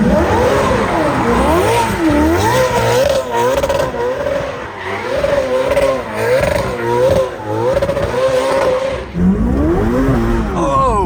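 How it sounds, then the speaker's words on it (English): Ferrari F8 with an aggressive aftermarket tune and upgraded exhaust, revving and accelerating hard with a loud, wavering engine note through repeated gear changes, close and sustained. "We had one of the world's most aggressive tunes put on this car. So it pops, bangs, everything."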